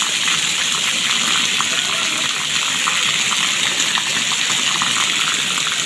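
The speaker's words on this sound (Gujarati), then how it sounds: "તો ખૂબ જ ઝડપી વરસાદ પડી રહ્યો છે" Heavy monsoon rain falls hard in Banaskantha, a constant dense hiss and rush of water that stays loud and unbroken throughout.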